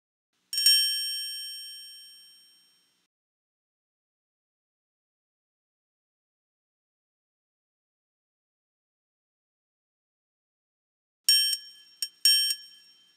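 A triangle from the Lamb Chop Loves Music PC game rings with one bright strike that decays over a couple of seconds, then after a long silence two more quick metallic strikes sound, alone and clear.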